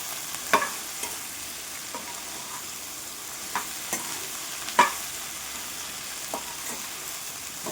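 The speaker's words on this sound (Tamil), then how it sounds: "இது கொஞ்சம் சிம்லேயே தான் வச்சு நம்ம பொரிக்கணும்." Soft sizzling of okra frying in a pan on low heat, broken by irregular scrapes and clinks as it's stirred.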